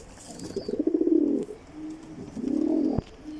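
Imported-breed racing pigeons, a red check pair, coo in two drawn-out, throaty rolls close by, separated by a short pause, with no talking.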